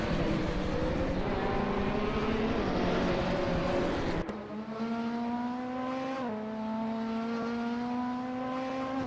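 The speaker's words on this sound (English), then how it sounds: "GT4 cars are swapping positions smoothly, suggesting tight competition and balanced performance" GT4 race cars on a street circuit in a racing video game: a rough, roaring engine drone gives way to a steady, whining engine note that drops briefly with a gear shift, then climbs again as the car accelerates.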